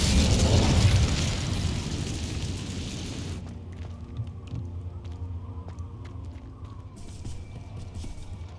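The Incendio fire spell is cast in Hogwarts Legacy, a loud whooshing fiery burst that roars for about three seconds and then drops away, leaving quieter ambient game sounds with faint clicks.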